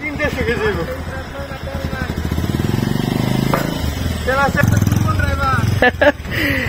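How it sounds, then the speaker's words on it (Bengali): A motorcycle engine revs and rumbles close by, rising in pitch at times, as the bike crosses beside a deep ravine in rural Habiganj, Bangladesh, while people talk over it. "সর্বশেষ বাইক এখন আমাদের ক্রস করবে।"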